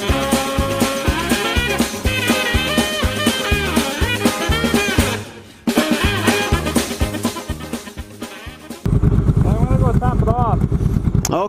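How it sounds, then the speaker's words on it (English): A Honda Shadow motorcycle engine idles with a steady low rhythmic thump, close and fairly loud, while people talk over it; the sound cuts briefly, then returns with a rougher rumble. "what kind of bike is that? Honda Shadow."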